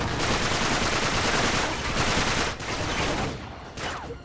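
Dense gunfire in the video game Uncharted 3, a loud continuous barrage of rapid shots that fills the clip, briefly dipping twice near the end.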